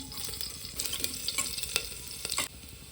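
Curry leaves, garlic and chopped onion frying in hot oil with cumin in a pan, a soft sizzle broken by several sharp stirring scrapes, close and fairly quiet.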